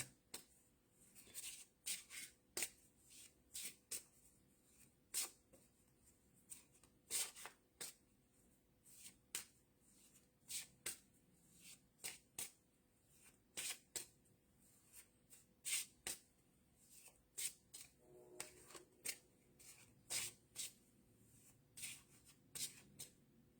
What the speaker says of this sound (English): the Ame Tarot counterpart deck, which is this one that I'm shuffling right now